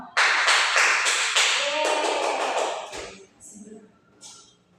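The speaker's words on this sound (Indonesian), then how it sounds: "Sekali lagi anak-anak, kita beri tepuk tangan untuk kita semua." A room of schoolchildren bursts into loud, steady applause with rapid overlapping claps for about three seconds, then it fades to a few scattered faint sounds.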